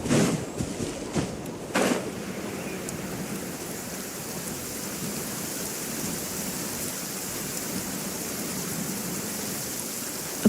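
Rain falls over the desert in Genshin Impact, a soft, continuous hiss of rainfall heard alone, with a few short bursts of sound near the start before it settles into a steady wash.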